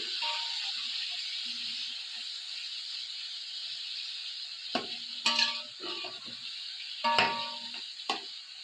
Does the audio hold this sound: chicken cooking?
yes